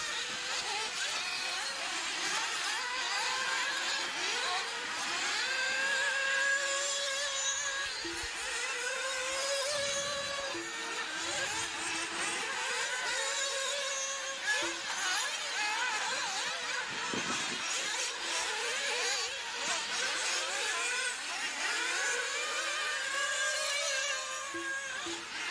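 1/10 scale RC buggies race around a track in an A main, a thin buzzing whine of motors rising and falling as the cars pass, steady and somewhat distant, with no talking.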